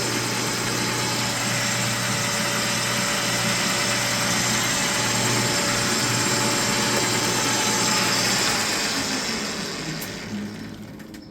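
A Clausing 10 x 36 metal lathe, model 4914, runs with a steady, even mechanical drone and hum at constant speed, then winds down near the end.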